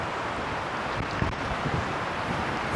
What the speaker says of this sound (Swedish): vad det blåser